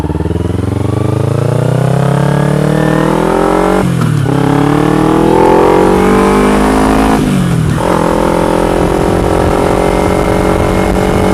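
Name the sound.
motorcycle riding on the road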